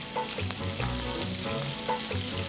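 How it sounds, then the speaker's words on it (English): Meat searing in a very hot pan, a steady close sizzle and crackle with bursts of spattering and stirring throughout. "wow, this is the searing"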